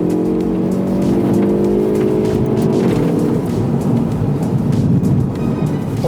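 A Hyundai i30 N under full acceleration, its engine roaring loud and close with a rising tone, then a quick upshift and a fresh surge of rumbling power.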